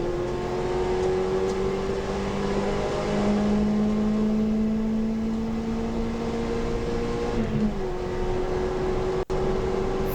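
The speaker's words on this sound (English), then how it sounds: "Hard on the gas again." Nissan Sentra race car accelerating hard on a circuit at Taupo, a loud steady engine drone with a rising tone through the gears, heard from inside the car with no talking.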